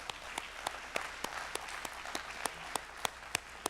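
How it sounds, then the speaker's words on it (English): An audience at an environmental justice symposium applauds steadily, a dense wash of many hands with sharper individual claps standing out at a regular pace, heard at moderate distance without talk. "Can we give them a round of applause too?"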